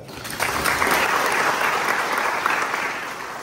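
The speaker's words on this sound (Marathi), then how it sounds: "त्यांच्यासाठी सगळ्यांनी टाळ्या वाजवा" Audience at a village gram sabha meeting about compensation for fishermen affected by a bridge project applauds for the sarpanch, steady clapping from many hands that swells and holds for about three seconds before tapering.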